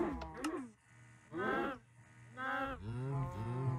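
Cows on an automatic animal farm in a video game, giving three drawn-out moos one after another, close and clear with short pauses between calls.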